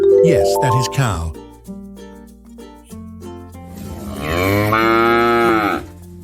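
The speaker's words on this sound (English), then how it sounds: "Yes, that is cow." A cow moos loudly several times in a farm-animal sound sequence, long drawn-out lowing calls with a rising, swelling final moo, close and clear with no talking.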